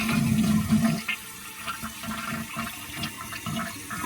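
A 1991 toilet flushes after a repair, a loud rushing surge of water that settles into a steadier gurgling refill, close and with no talk over it.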